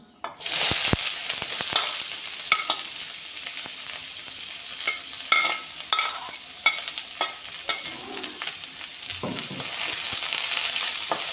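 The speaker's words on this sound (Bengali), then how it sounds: "এয়া পিঁয়াজ জলকীয়াখিনি অলপমান ভাজি ল'ম" Onions and green chilies sizzle in hot refined oil in a kadai, a steady close frying hiss broken by occasional stirring clinks and scrapes, with no talking.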